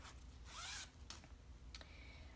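An invisible zipper on a pillow is pulled open, giving a quick rasping zip followed by a few short rustles and ticks of fabric, close and quiet with no talking.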